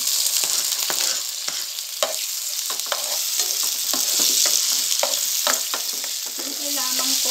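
Onion, garlic and ginger sauté in a pan for bitter-gourd pinakbet, a steady close sizzle broken by repeated scrapes and clinks of a utensil stirring, with no talk.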